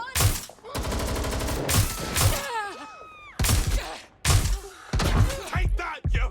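Gunfire rings out in the video game Watch Dogs Legion, heavy bursts of rapid shots and thuds with short gaps between volleys, loud and close.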